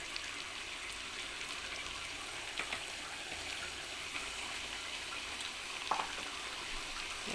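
Daal gosht masala sizzling in a pan with yogurt added, a steady, soft frying hiss with a few faint pops and clinks.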